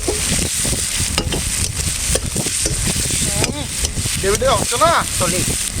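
Masala spices sautéing in oil in a pan for a Bengali pomfret fish curry, a steady close sizzle with occasional stirring scrapes, while people talk over it.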